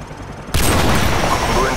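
Call of Duty 4: Modern Warfare gunfire erupting suddenly after a brief pause, a loud sustained burst of shots with booming, reverberant impact that fills the rest of the moment.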